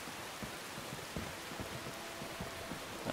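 Rain falls steadily in the video game Skyrim, a soft continuous patter with scattered droplet hits and no voices.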